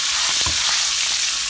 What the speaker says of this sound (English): I'm going to add my curry leaves and a little bit of asafoetida or hing. And this is all just going to kind of sizzle up in my pan